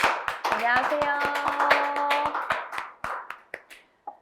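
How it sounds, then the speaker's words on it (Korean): A small group claps in welcome at a live and online family-worship webinar: scattered, fairly close claps that thin out toward the end, with a brief spoken greeting. "환영의 박수 부탁드리겠습니다."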